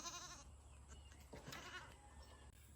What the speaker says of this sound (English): You hear the baby goats?